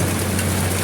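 Heavy rain drums steadily on a leaking roof in the rainy season, a loud, unbroken wash of hiss over a low steady hum.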